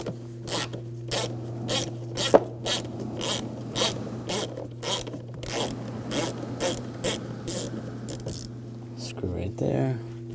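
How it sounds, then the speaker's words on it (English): A ratchet fitted with a 5mm hex socket clicks in rapid, steady bursts while removing screws on a 2007-2013 BMW X5 during front strut work, close up over a low constant hum. "I'm going to take some of these screws out. I'm going to use a 5mm hex socket."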